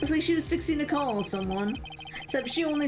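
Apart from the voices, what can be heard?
No distinct noise like a dog, phone or traffic.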